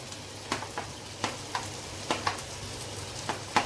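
Red capsicum hits a hot pan and fries with a steady low sizzle, broken by a handful of sharp clicks and taps from a spoon or spatula, close and moderately loud, no voices.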